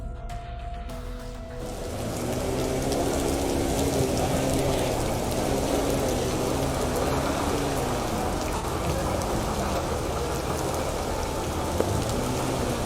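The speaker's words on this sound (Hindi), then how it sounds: "बारिश का मौसम है, बारिश हो रही है पूरे ज़ोर से" Heavy monsoon rain pounds down at an outdoor farmers' protest gathering, a loud, constant roar of falling water that swells after a quieter opening moment and holds steady, with a faint low hum underneath.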